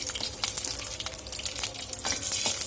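Chili pieces crackling and sizzling in hot oil in a pan, a steady close-up fry with scattered pops and spatters throughout.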